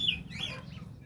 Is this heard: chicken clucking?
yes